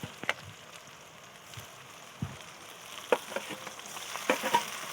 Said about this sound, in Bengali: এবার পেঁয়াজ বাটাটা দিয়ে দেবো